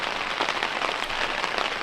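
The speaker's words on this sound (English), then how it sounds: "It's been raining all night" Steady rain patters on surfaces at a campsite during an all-night downpour, a dense, close hiss of drops with no voices.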